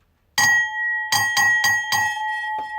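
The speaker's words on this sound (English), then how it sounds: "I'll ding the bell again." An old CQR Type H alarm bellbox bell, about thirty years old, rings in four loud, close metallic strikes with ringing overtones, then a fainter fifth tap, each one decaying quickly into silence.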